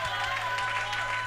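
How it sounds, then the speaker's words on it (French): Congregation at a French-language church service clapping together in praise, a steady broad wash of applause with a sustained tone or voice running underneath throughout. "Applaudissons un peu le Seigneur."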